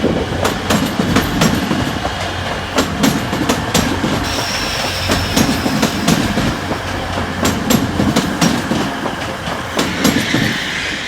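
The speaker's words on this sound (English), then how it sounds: "Here's the 1204 Grand Central service from Bradford Interchange to London King's Cross." A Grand Central passenger service bound from Bradford Interchange to London King's Cross rolls past a platform at Doncaster station, wheels clicking over rail joints in a steady rhythm with a loud, continuous rumble.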